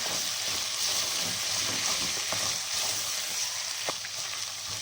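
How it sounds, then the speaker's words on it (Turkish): Butter, tomato paste and onion fry in a pan for a zucchini karnıyarık dish, giving a steady, close sizzle with faint crackles and a few light stirring clicks throughout. "Salçanın ve soğanın kavrulmasını sağlıyorum."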